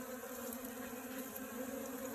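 Honey bees hum in a steady, continuous buzz around a feeder and compost bin, a close, even drone with no voices.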